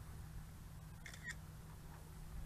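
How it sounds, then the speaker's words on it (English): A Potensic D60 GPS camera drone plays an electronic camera-shutter click through its app, one quick faint double click against a low steady hum, with no talk. "There you go, there's a shutter."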